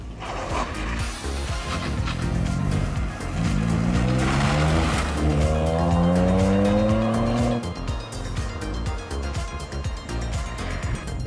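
Toyota Yaris GR three-cylinder rally car driving hard, its engine revving up and down loudly and close with rising pitch sweeps, tires squealing and skidding throughout.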